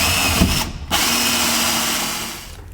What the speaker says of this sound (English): Got these holes drilled for the screws now.